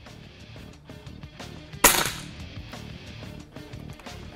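A RAW HM1000X .357 regulated air rifle fires a single pellet, one sharp loud crack partway through followed by a short decay, amid faint clicks and background noise.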